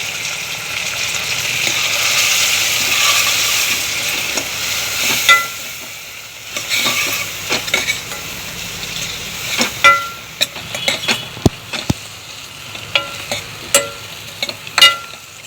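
Red chili powder and sambar masala sauté in a pan for sambar: a loud frying hiss first, then quieter sizzling broken by sharp spoon clinks and scrapes against the pan toward the end.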